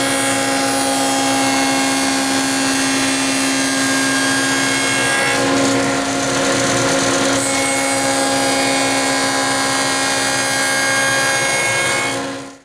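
A power saw cuts a half-inch-deep tenon cheek for a traditional workbench, a steady loud tonal whine that holds for most of the span, roughening briefly in the middle as the blade works through the wood, then stopping abruptly.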